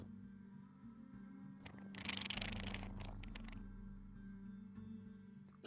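A person imitates a cat's purr, a soft, rough rattling that swells near the middle of the clip and then fades over a low steady hum.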